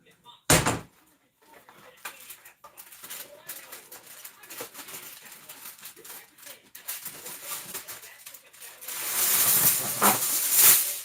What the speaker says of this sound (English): And then I'm going to put it in my oven.